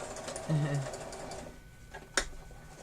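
A household sewing machine runs in a short whirring burst, quiet and close, with a voice talking over it and a single sharp click near the end.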